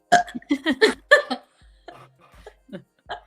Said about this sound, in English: That was a forced burp.